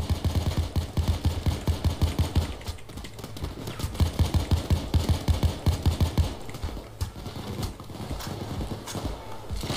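Rapid bursts of automatic gunfire from a bank heist shooter game rattle in quick, rhythmic strings with short pauses, loud and close throughout, with little talk.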